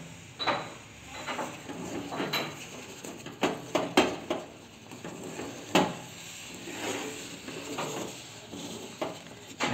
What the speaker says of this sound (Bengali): নাড়তে রয়েছি, নাহলে লেগে যাবে।